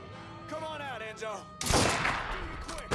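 A few sharp, bright gunshot bursts from Mafia III crack in after a moment of talk, with voices speaking before and between them.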